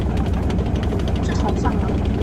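A helicopter passes overhead in a video game, giving a dense, steady rotor and engine roar that fills the whole stretch at a constant, fairly loud level.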